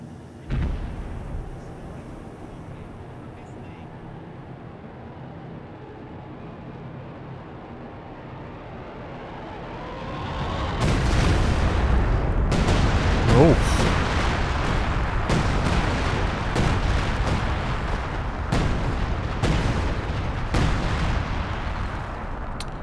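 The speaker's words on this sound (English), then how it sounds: "A coordinated barrage is on the way. All units that can fire will do so." An artillery barrage in a British-faction strategy video game, quiet at first, then a dense run of heavy booming shell impacts and blasts rolling loudly one after another for the last half.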